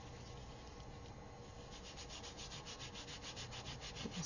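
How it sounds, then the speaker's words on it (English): A small scrubber rubs a stencil clean with APC cleaner in quick, steady back-and-forth strokes, close and fairly quiet, with no talking. "now I have this little scrubber"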